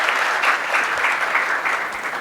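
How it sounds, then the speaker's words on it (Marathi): Audience at a poetry reading claps loudly in praise of a poem, a dense, steady burst of applause with rhythmic swells, close and sustained, no voices over it. "खरंच एकदा संतोष सरांच्या बा या कवितेसाठी जोरदार टाळ्या झाल्या पाहिजेत मला वाटतं"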